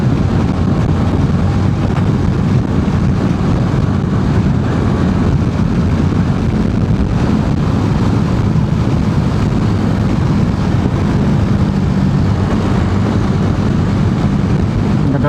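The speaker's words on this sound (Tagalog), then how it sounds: "Simula na nag-summer, ang lakas ng hangin dito." Strong summer wind roars steadily across the microphone outdoors, a loud, unbroken low rumble with no pauses and no voices throughout.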